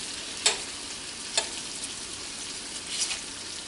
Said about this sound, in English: I've always liked the bacon grease and frying it.